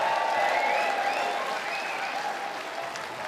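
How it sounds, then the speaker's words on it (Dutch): Sustained, loud applause from a carnival crowd as prince Johan the First is unveiled, steady clapping that fades slightly over a few seconds with faint cheering mixed in. "Ik vraag nog eindelijk hier een geweldig applaus voor niemand minder als onze eigen doorluchtige hoogheid, Prins Johan de Eerste"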